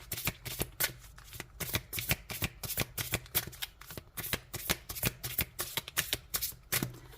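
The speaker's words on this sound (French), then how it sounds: "on va prendre une petite carte pour terminer." Tarot cards are shuffled in a steady series of crisp riffling bursts, close and quiet, about three per second for several seconds with no talk.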